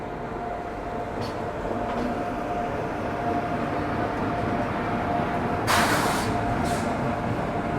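A steady low rumble of a train arriving at a station platform in India under a constant hum, with a brief hissing burst of air brakes near the end.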